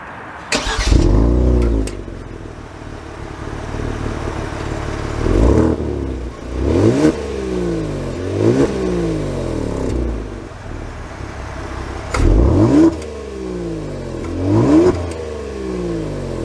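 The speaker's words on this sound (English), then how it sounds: "Let's take her out and see how she drives." A 2022 Kia Stinger GT Scorpion pulls away with repeated strong revs that rise and drop through the gears, the engine loud and close with no talking.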